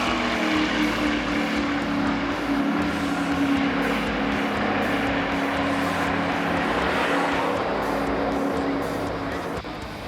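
NASCAR stock cars race at Daytona, heard from the infield as a continuous loud engine drone with a steady pitch, swelling and fading slightly as cars pass.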